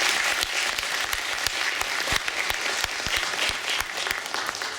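An audience applauds after a talk at a game developers' conference, producing a dense, steady clapping that stays loud throughout without voices over it.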